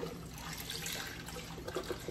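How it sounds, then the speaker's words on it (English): Four cups of beef broth pour from a carton into a pot for French onion soup, a continuous liquid gurgle and splash with a few bubbly bursts near the end. "so now we're going to add our beef broth"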